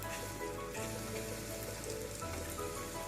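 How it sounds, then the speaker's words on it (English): An egg sizzles in a hot oiled pan for fried rice as a fork scrambles and breaks it up, a steady, dense crackle with faint scraping shifts running throughout, fairly close and without talk. "you can scramble this egg with the help of a fork"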